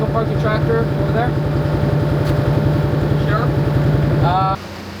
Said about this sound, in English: You're gonna go park the tractor over there?